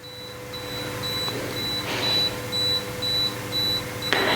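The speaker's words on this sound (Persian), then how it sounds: "اگه من اینو انتخاب بکنم دوربین بعد از 10 ثانیه عکس میگیره" A camera's self-timer set to ten seconds gives a steady series of evenly spaced high electronic beeps over a constant room hum, ending in a sharp click as the shutter fires.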